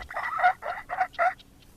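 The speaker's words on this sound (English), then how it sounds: "got the turkeys coming over now" Several turkeys gobble close by in a quick run of four rattling bursts, heard alone on a farm pasture where chickens are also kept.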